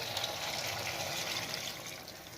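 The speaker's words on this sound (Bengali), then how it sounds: "এরপর আমি দিচ্ছি জল" Water poured into a chicken dish with yogurt and flour while cooking, a steady splashing gush that continues for a couple of seconds and eases slightly at the end, with no talk.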